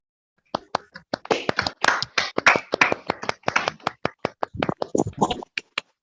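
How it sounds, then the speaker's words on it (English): A few people on an online seminar call clap after unmuting, giving sparse, uneven, close individual hand claps rather than a dense crowd ovation, lasting about five seconds. "Give him an applause."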